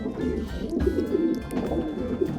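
A racing pigeon in a breeder's loft coos steadily, its low, rolling, throaty calls repeating close by for a couple of seconds with no voices over them.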